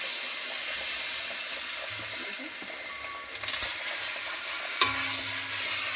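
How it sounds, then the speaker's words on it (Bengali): Garlic paste added to a hot pan gives a steady, moderate sizzle, broken by a sharp utensil clank partway through. "এইবার আমি রসুন দিয়ে দেবো বন্ধুরা। এই যে রসুন দিয়ে দিলাম।"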